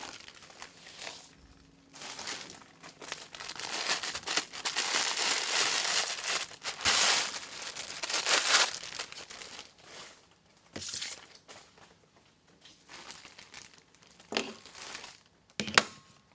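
Red poly mesh for a poinsettia wreath is handled and cut into lengths, giving bursts of close crinkling and rustling with brief pauses and a few sharper snips and taps.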